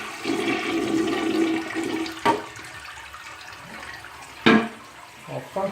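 A household toilet flushes during a home inspection: a steady rushing swirl of water drains away, followed by a few sharp clunks and a quieter refill trickle, close by, with no talking.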